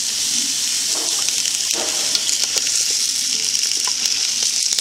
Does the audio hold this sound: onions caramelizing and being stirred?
yes